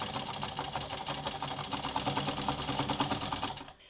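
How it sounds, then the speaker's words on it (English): A 40-year-old sewing machine stitches along fabric binding in a steady, fast mechanical rhythm, loud and close, running continuously before stopping abruptly at the end. "My sewing machine is 40 years old and I can't believe it's still going."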